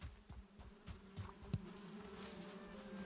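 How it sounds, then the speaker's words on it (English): Bees in the Valheim video game give off a thin, steady buzz beneath soft game ambience and a few light clicks, with no talking. "Thanks, bees."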